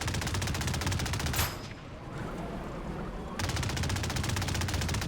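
A player-built gun in Trailmakers fires in fast, evenly spaced rapid bursts, loud and close, stopping for about two seconds in the middle before the rattling stream resumes.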